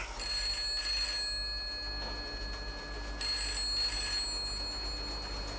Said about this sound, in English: That's the telephone ringing, sir.